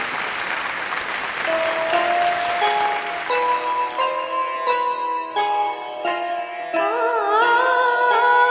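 Audience clapping at a Kannada TV quiz show stage as a team begins its performance, a broad wash of applause that fades under the start of melodic music with singing.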